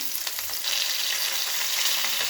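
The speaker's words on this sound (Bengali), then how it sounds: "এই যে চটপট করে ফুটছে, তার থেকে কিন্তু আপনারা সাবধানে থাকবেন।" Tangra fish frying in hot oil, a dense close crackle and sputter that swells louder partway through and holds steady, with no voices.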